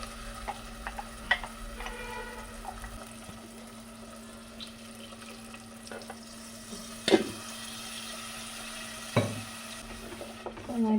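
Ground masala paste is stirred in a frying pan for a Kanhangad-style mackerel curry, giving a faint sizzle with a few scraping strokes and utensil clinks, close and quiet.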